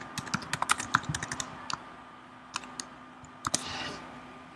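Text typed on a computer keyboard, a quick burst of close key clicks followed by a pause and a few scattered final taps, with no voice over the keystrokes.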